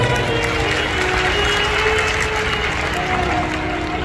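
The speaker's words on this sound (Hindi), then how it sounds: "एक बार जोरदार ताली बजाएं।" A large crowd claps loudly at a Shiv Puran religious discourse in Meerut, a continuous, even roar of hands with a faint sustained tone running beneath it throughout.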